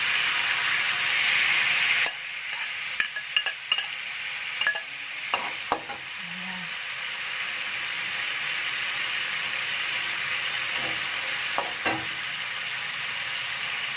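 Potatoes and petai stirred into sizzling sambal for sambal goreng kentang hati, a steady frying hiss with scraping spoon strokes in the first few seconds, then continuous sizzle throughout.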